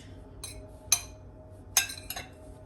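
A metal spoon clinks lightly against a container several times while spice is added for biryani, short bright taps separated by quiet pauses.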